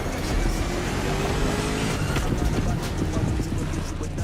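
A 1969 Mustang Boss 429 roars in the racing video game The Crew Motorfest, with a loud, continuous engine drone and rising revs throughout, heard up close without talk.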